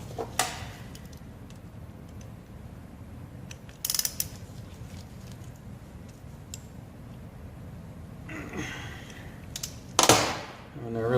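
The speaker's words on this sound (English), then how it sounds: "So if I can break them free with the wrench, I like to do that." A wrench clicks and ratchets against stubborn bolts on a dual-stage Murray Estate snow blower in a workshop, with sparse close metallic clacks and a couple of louder bursts amid quiet background.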